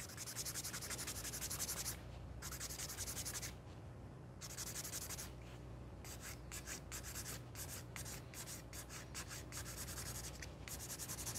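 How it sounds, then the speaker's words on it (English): A nail file works over builder gel nail extensions in close, quiet rhythmic strokes, a continuous soft rasp broken by brief pauses and quicker short strokes, with no talking. "And then we want to file it all over."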